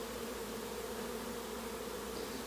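A mating swarm of bees flying over a backyard, a constant faint buzzing drone with no breaks, distant and soft, with no voices.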